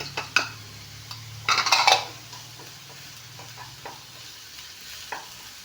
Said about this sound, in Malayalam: ജസ്റ്റ് ഒന്ന് വഴറ്റിയെടുക്കാം. ജസ്റ്റ് ഒന്ന് വഴറ്റിയാൽ മതി, കളറ് ചേഞ്ച് ആകാൻ നിൽക്കണ്ട.